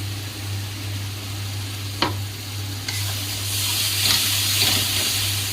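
Spice masala frying in oil in a pan and being stirred: a steady, loud sizzle with a sharp clink partway through and a low hum behind it.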